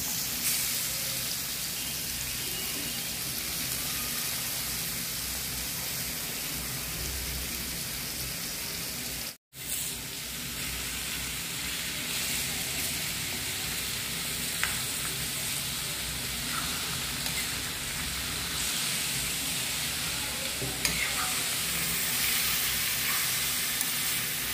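Garlic and grated raw mango fry in a pan with a constant hissing sizzle. It runs evenly for a long stretch with a brief cut partway through.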